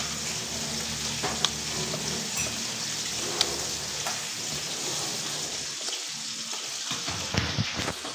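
Galunggong fish fry in a pan with a steady, close sizzle and occasional pops and crackles, no talk.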